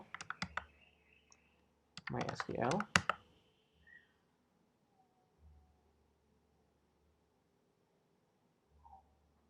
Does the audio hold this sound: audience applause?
no